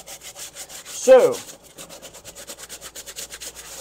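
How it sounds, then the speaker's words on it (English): Hand scrubbing a Tilley hat with plenty of soap, a close, rhythmic rubbing of fabric repeated in quick strokes, with a brief spoken word near the start. "Get a lot of soap. Scrub it good."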